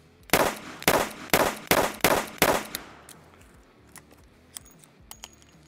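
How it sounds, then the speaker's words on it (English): Six sharp, loud shots from a Taurus 856 ultralight revolver firing 132-grain rounds, spaced about a third of a second apart, followed by fading echo and a few faint clicks and handling noises. "So right here we've got one of the ultralight models and I'm gonna shoot this right here."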